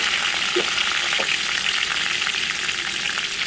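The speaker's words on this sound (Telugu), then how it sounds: "2 to 3 table spoons oil heat చేసుకొని అందులో కొంచెం కరివేపాకు, జీలకర్ర," Curry leaves, cumin and mustard seeds crackle and sizzle in hot oil in a pan, a loud, continuous fry with scattered pops and spits throughout.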